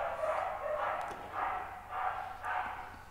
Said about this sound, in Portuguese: Não sei se dá para vocês verem, mas tem um cachorro latindo.